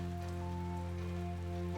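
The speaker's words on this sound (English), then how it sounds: "Rain can feel oppressive, it can stop you from going outside, doing the things you enjoy." Rain in the video game Necrobarista falls as a continuous, even patter over a steady low tonal hum, soft and unbroken throughout.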